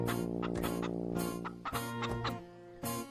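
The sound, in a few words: chickens clucking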